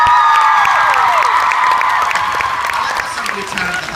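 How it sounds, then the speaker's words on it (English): A crowd at a VidCon 2016 panel claps and cheers loudly, with high whoops and shouts sliding over the clapping and voices calling out amid the noise. "Can we have an applause break?"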